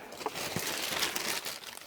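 A plastic bag crinkles near at hand during wig cutting, with a brief run of soft, irregular rustles and crackles.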